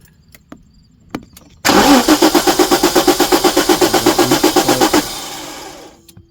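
Ignition-key cranking of a 1994 Jaguar XJ6 with a crank-no-start fault: after a few small clicks, a loud, close starter churns in a fast, even rhythm for about three seconds, then stops without the engine catching.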